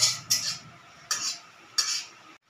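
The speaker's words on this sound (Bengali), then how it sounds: "তার সাথে দিয়ে দিচ্ছি শুকনো লঙ্কা ফোড়ন।" Dried red chillies tempering in a hot pan, with four short bursts of sizzling and spatula scraping separated by near-quiet gaps.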